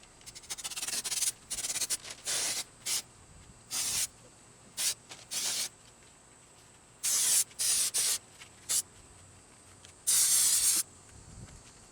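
Brake cleaner sprayed onto parts under a car hood, heard as a series of short, sharp hissing bursts at close range separated by quiet gaps, some bursts longer than others.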